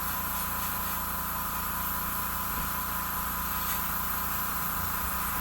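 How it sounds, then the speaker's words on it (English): Airbrush spraying Tamiya flat earth paint onto a truck diorama, a continuous close hiss of compressed air that holds steady throughout, with no voices. "I'm going to do a little bit of airbrush blending"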